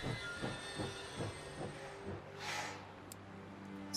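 A train in the video game Last Train Home slows to a stop, with rhythmic rail clatter easing off, a faint wheel squeal and a brief hiss of air near the end, no talk.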